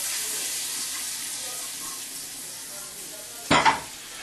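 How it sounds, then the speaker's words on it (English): Onions frying in butter in a pan: a steady, soft sizzle that runs on with little change, closing with a short loud burst of clatter or hiss near the end. "I'm gonna get my butter over here. Onions, drop them in."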